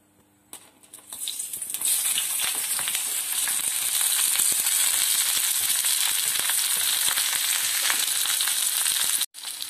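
Sliced onion, green chillies and curry leaves sautéing in coconut oil in a pan, a loud steady close sizzle that rises within the first two seconds and holds, with faint stirring clicks and no talking.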